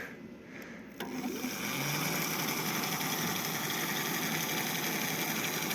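A motorcycle fitted with a homemade attachment, resting on its stand, picks up after a quiet moment: its engine rises into a steady, buzzing run that holds at a constant, fairly close drone.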